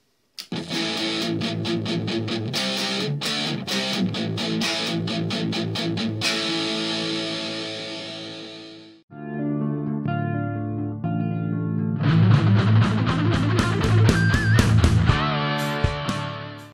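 Heavily distorted electric guitar through a Wampler Triple Wreck distortion pedal plays chugging palm-muted riffs and sustained chords, loud and aggressive, with a brief pause before a thicker, heavier section.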